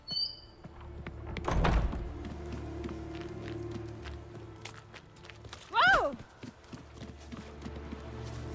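Horses in The Witcher 3 video game, with soft clip-clop hoof thuds, a louder stamp and a brief horse call amid quiet ambience and voices.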